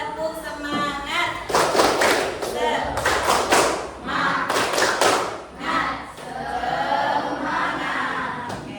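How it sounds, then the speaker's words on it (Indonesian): A classroom group does a rhythmic spirit clap in bursts of loud, patterned hand claps and thumps, with voices chanting and calling out between the clapping phrases. "Coba tepuk semangat."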